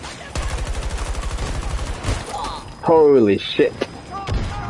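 Grenade launcher fire from SPH weapons in the game Battlefield 2042: a fast run of repeated thumping shots in the first two seconds, followed by a loud excited shout and further bursts under talk.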